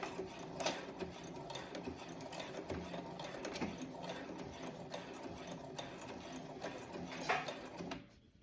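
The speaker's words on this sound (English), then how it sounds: "And then back stitch again." A sewing machine back stitching the facing onto a dress collar, a fast, even mechanical whir with a ticking pulse that runs steadily and then stops abruptly near the end.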